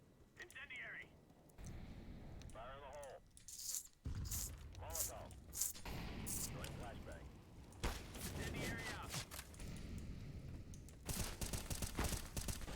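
Gunfire in a first-person shooter video game, scattered sharp shots and short bursts mixed with game noise, heard under near-constant excited talking.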